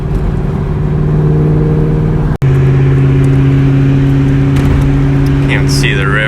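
Engine of a 2004 Cobra car heard from inside as it accelerates and revs, a loud steady drone that briefly cuts out, then climbs again, with a voice speaking over it.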